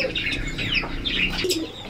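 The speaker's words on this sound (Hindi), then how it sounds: "इसको दाना खोलते ही देखिए कबूतर सारे आगे पीछे आ चुके" A flock of pigeons crowds around scattered grain, with a busy flutter of wings and scattered chirps close by, continuous and fairly loud.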